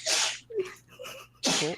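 A person sneezes sharply and loudly close to the microphone during a tabletop role-playing game session, with quieter talk and a second sneeze-like burst following.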